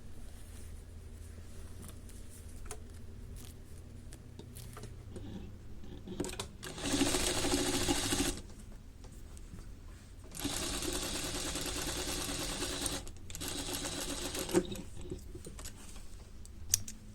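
Sewing machine stitching a small dart on kids' pants, running close in three steady runs of about two to four seconds each, separated by quiet pauses with faint handling noise.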